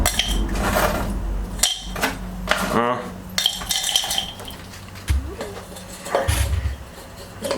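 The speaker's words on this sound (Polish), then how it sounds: "ja tu mam taki mały robocik, blender, tak, sypię teraz te wszystkie rzeczy do niego" Dry ingredients for homemade activated carbon are tipped into a small kitchen blender, giving scattered clinks, rattles and gritty patters against the container, close and irregular.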